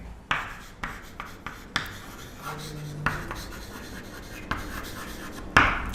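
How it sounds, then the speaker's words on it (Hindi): Writing on a board in a school classroom: short, close scratchy strokes and taps, spaced irregularly with quiet gaps and no voices. "अगर मैं इधर ऐसा लिखता हूँ"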